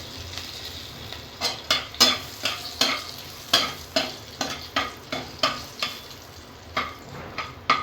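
A spoon scrapes and stirs in a pan in a steady rhythm of a dozen or more strokes over a soft, continuous sizzle of an upma tempering with curry leaves and turmeric frying in a little oil.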